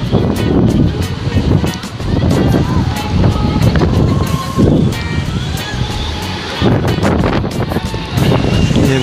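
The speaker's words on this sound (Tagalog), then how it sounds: "Takas na hangin." Strong gusting wind buffets the microphone on a high hanging bridge overlooking a lake, a loud continuous roar with surges and brief lulls, and faint voices mixed beneath it.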